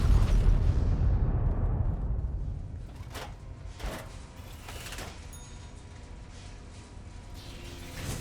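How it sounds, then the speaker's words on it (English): A loud blast fades into a rumble, followed by several sharp bangs and pops at irregular intervals over a lingering low roar, in Fallout: New Vegas. "away from the explosions!"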